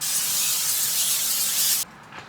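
Cooking oil sprayed in one continuous hissing burst onto a smoker grill during seasoning, loud and close for nearly two seconds before cutting off abruptly into near quiet.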